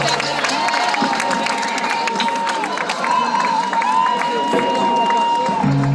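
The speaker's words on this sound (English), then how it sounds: "Je vous demande d'applaudir mes invités, s'il vous plaît." A crowd applauds and cheers for guests on a show, mixing dense clapping with whoops and shouts and a sustained tonal voice line, loud and close throughout.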